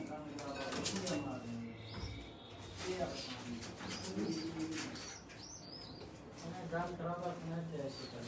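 Pigeons cooing in a breeding setup with crossbred pairs and a teddy hen, soft repeated coos and chirps close by while someone talks over them throughout.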